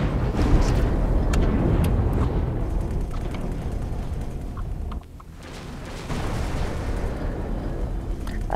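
Explosions in the space game X4: Foundations, dense rumbling blasts and bursts rolling over each other, loud and continuous with a short dip midway before the booming resumes.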